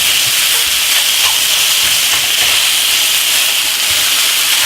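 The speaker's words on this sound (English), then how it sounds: "I'm going to let the pork brown on this side for just a minute or so." Pork cutlets brown in a hot pan, giving a steady, loud, broadband sizzle and hiss that holds constant throughout with no talk over it.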